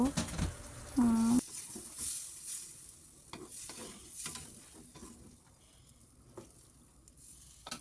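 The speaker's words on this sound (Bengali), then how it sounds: "আমি এখানে মাছটা কষিয়ে নিব" Fish is sautéed with spices in a pan, with intermittent scraping stirs over a soft, continuous sizzle. A brief tonal squeak sounds near the start, and the rest stays fairly quiet and close.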